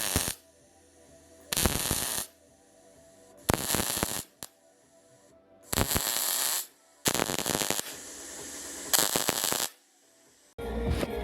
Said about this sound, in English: I'm just gonna weld stainless straight to this